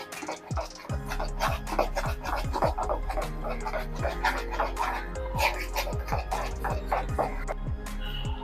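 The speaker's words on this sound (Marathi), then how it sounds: "आता आपल्याला हे पीठ अगदी सरसरीत भिजवून घ्यायचं आहे" Gram flour batter is stirred in a bowl, producing a steady run of rhythmic scraping and swishing strokes, close and moderately loud.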